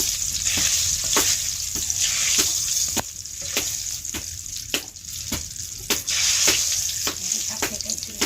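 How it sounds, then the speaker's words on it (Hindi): Bay leaves sizzle in hot oil on a clay stove, a constant bright hiss close by, punctuated by sharp regular taps and scrapes of a spoon roughly every half second. "तेज पत्ता डाल दे तब बहुत अच्छा एकदम चन चन बाजत भाई"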